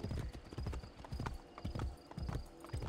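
Horse hooves clip-clopping at a steady trotting rhythm in Assassin's Creed Brotherhood, close and clear, with a faint whinny and game ambience behind.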